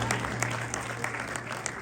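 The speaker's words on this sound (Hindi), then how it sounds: "सचमुच की तालियां बजा दें यार" Applause from a theatre audience at a Pakistani arts gathering honouring performers, a steady wash of clapping hands with a low hum running underneath.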